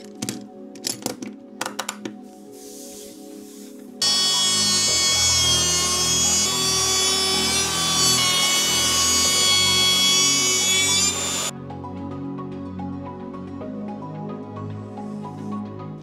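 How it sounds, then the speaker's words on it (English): A handheld router cuts into a wooden workpiece for an arcade machine cabinet, a loud steady high whine lasting about seven seconds between quieter tapping and handling noises. "you really hold the router flat, that it doesn't move, doesn't wobble"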